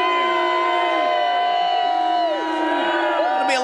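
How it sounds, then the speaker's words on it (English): A crowd at a Kansas City Chiefs rally yells and cheers continuously, with loud overlapping voices and sustained whoops filling the space. "A lot of yelling this morning."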